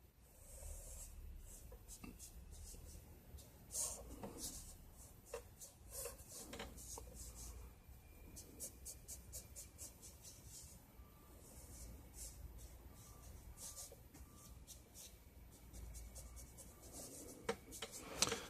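A pencil sketches Thor on paper, faint close scratching and rubbing strokes in irregular bursts over a quiet background.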